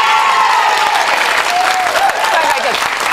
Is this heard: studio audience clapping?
yes